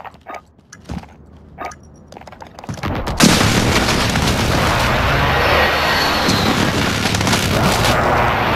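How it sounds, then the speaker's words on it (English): Precision airstrike explosions in Call of Duty: Modern Warfare search and destroy, quiet scattered game sounds giving way to a sudden loud boom followed by sustained rumbling blasts and gunfire. "Be advised, friendly precision airstrike inbound."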